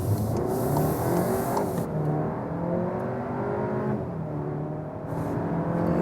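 A 2021 VW Arteon Shooting Brake R-Line, 280 hp with front-biased all-wheel drive, pulls away hard from standstill, its engine note climbing steadily and loudly through the revs with a brief gear-change dip, heard from inside.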